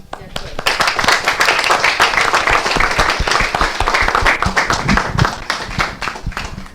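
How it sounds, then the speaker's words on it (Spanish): An audience applauds in recognition at a press conference for a world bicycle forum; sharp, close individual claps rise quickly into sustained clapping, with some voices mixed in. "le brindemos un aplauso en señal de reconocimiento a lo hecho por Efraín"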